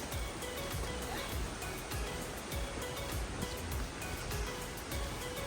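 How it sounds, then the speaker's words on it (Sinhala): Small streams running through a Seychelles forest near Port Glaud give a soft, continuous rush of flowing water, steady and faint with no voices. "පොඩි පොඩි වතුර පාරවල් හැමතැනම"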